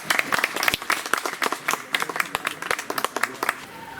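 Residents of a Gorakhpur bank colony clap in honour of doctors, sanitation workers and police, a loose outdoor round of distinct, uneven hand claps from a small group, fairly close, with a few voices in the background.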